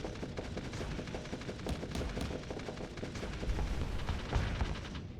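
Space combat weapons fire continuously in a video game, pulse lasers on auto fire sounding like rapid, steady gunfire bursts, moderately loud and without pause.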